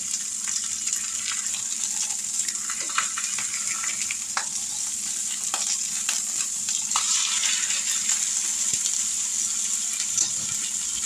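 A pot roast sizzles loudly in a hot pan as it is flipped, a dense continuous frying hiss with scattered pops and crackles and a few scraping clatters, close and steady with no talking.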